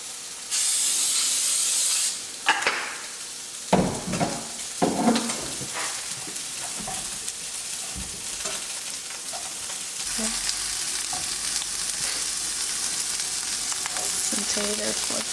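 Potatoes and sausage frying in cooking oil in a pan, a steady sizzle and hiss with stirring clatters and scrapes, loud and close, with a sharp burst of spray early on.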